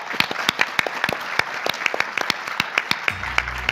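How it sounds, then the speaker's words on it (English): An audience claps for a panel of travel-industry CEOs, a close, crisp round of individual hand claps in an uneven rhythm that continues steadily throughout. "Please give them another round of applause"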